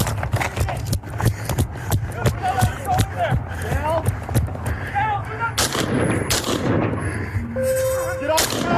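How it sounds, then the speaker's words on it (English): Gunshots ring out during a tense police confrontation outside a convenience store, a rapid series of sharp loud cracks spread across the scene amid shouting voices and commotion. "Put it away, Control 240, shots fired."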